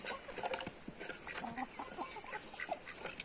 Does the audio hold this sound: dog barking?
no